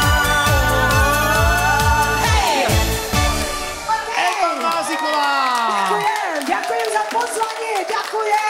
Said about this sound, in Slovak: Ďakujem za potlesk, ďakujem za blahoželanie.